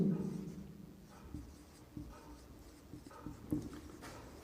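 Marker or chalk strokes on a classroom board during a Hindi-language biology lesson, a few soft scratchy bursts spread across a quiet, low-level room background.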